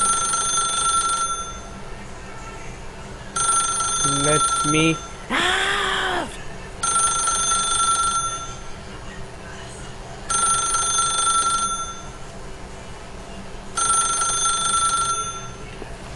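An old-style telephone in The Stanley Parable rings in steady repeated bursts of bright metallic trilling, about two seconds apart, loud and close, with a voice speaking briefly between rings.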